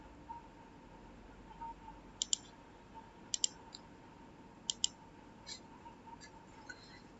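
A computer mouse gives a few faint, sharp clicks, some in quick pairs, spaced apart over a quiet room hum.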